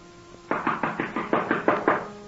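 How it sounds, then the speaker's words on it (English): Eight firm knocks on a door in a radio drama, evenly spaced in a steady rhythm, fairly close and clear against a quiet background. "Answer your door, Ziegler."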